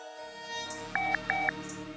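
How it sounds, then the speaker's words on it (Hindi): Two quick electronic trills from a ringing phone, close and clear against a low, continuous musical backdrop, with no voices. "वकील का फोन है"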